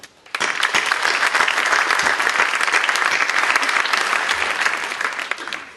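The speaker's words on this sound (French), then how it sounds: "Je trouverais légitime et tellement mérité qu'on les applaudisse pour les remercier." Loud, dense applause from an audience thanking team members at a Loi de Finances 2017 speech, starting abruptly and holding strong for several seconds.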